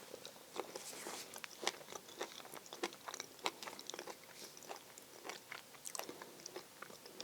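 Close crunchy bites and chewing of a ripe Vasilika Sika persimmon with crisp skin and crunchy seeds, a dense run of sharp crackles and wet mastication across several seconds, no talking.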